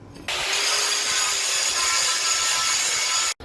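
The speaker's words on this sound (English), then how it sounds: "I have to grind off all this outside weld" Grinding outside weld off copper and steel knife blanks, a steady abrasive power-tool hiss held continuously for about three seconds before stopping abruptly.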